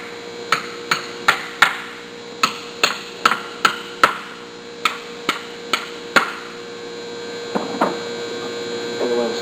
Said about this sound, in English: I'll go ahead and knock these dowel pins back into the pump cover